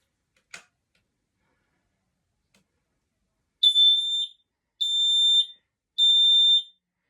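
A home smoke alarm under test sounds three loud, piercing, high-pitched beeps of about half a second each, evenly spaced, after a single sharp click and near silence.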